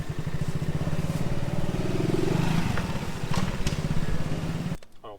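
A Charly motorcycle with kick starter runs steadily outdoors, a loud, close, rapid chugging engine note with slight surges, cutting off abruptly near the end.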